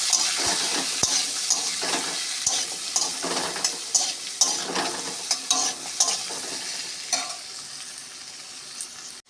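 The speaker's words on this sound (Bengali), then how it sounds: "অল্প হলুদ দিয়ে আলুটা ভাজবো তাতে আলুর রঙটা দেখতে সুন্দর লাগে" Potatoes fry with a little turmeric in a pan, sizzling continuously while a utensil scrapes and knocks in a loose, repeated stirring rhythm, close and clear with no voices.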